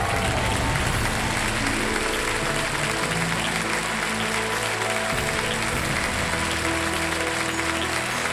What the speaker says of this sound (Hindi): मैं चाहूंगा एक बार फिर जोरदार तालियां उनके लिए।